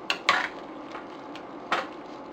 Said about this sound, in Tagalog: Stir lang natin to gently.